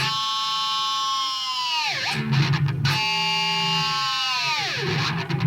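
Heavily distorted electric guitars sustain a thick chord together, twice swooping sharply downward in pitch before returning, loud and processed.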